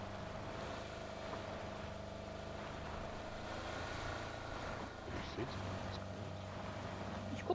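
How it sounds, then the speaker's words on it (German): Car engine in PUBG, a low steady drone that holds faintly and continuously beneath a quiet game background, with no clear rise as it draws near. "Ich glaube, ich höre ein Auto."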